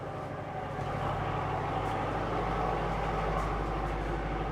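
Engine room of a Princess 88 yacht with basic systems idling, giving a steady, loud, close low-pitched hum and drone with constant machinery rumble and no talk.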